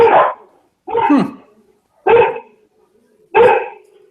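A dog barks four times in a slow, evenly spaced series, each bark loud, close and sharp, with quiet gaps between them.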